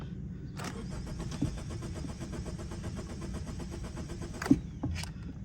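A 2018 Honda Civic engine cranks, starts briefly and then dies, a steady mechanical run of about four seconds ending in a sharp clunk, with no talk.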